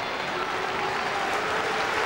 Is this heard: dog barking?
no